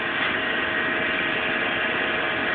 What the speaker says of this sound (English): Transformers are spun up.